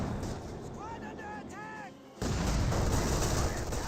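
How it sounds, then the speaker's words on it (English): Battlefield fire in Company of Heroes 2, a heavy sustained rumble of artillery and gunfire that swells abruptly louder partway through, with radio-style chirps and voice-like warbles over the din. "I heard something explode"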